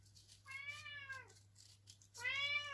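A pet cat named Buffy, indoors, gives two clear drawn-out meows a moment apart, the second louder and closer, over a faint steady hum.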